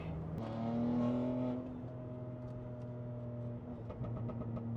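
A tuned BMW X3M making over 750 wheel horsepower, its engine rising in a loud rev near the start then settling into a steady, droning pull with shifting tones, heard up close from inside the car.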